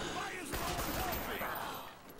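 Fire-rate-capped gun in Call of Duty Zombies, Kino der Toten, firing a brief burst of rapid shots, fairly quiet, with a voice talking over it.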